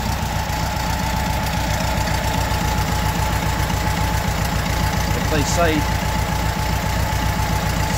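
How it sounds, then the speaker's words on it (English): A small original 1200cc engine idles with a fast, even ticking rhythm, steady and close, while a voice speaks briefly over it. "listen to the gorgeous little 1200cc original matching numbers engine that is just ticking away"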